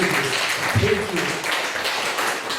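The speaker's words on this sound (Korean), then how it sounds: "박수 한번 쳐요" Church congregation applause, a steady wash of clapping that fills the whole stretch, with a voice briefly heard partway through.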